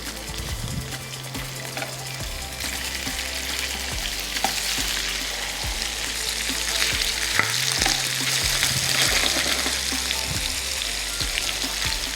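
Food frying steadily in a hot pan until light brown for a Tamil-style gravy, a continuous sizzle with occasional stirring scrapes, close and moderately loud throughout.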